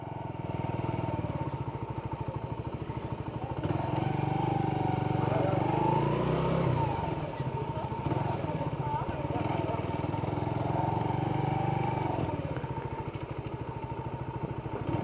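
Honda motorcycle engine running on a cobbled street, a steady near rumble that swells briefly around the middle while someone talks over it.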